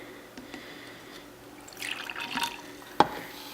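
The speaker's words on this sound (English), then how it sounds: "Okay, mine's fizzing a lot." Baking soda fizzing in a liquid during a home gender-prediction test, a soft hiss of bubbling with faint drips and a sharp clink near the end, quiet and close with no talking.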